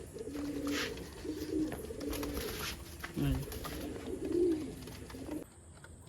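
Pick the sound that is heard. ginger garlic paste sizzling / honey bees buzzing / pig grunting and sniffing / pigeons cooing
pigeons cooing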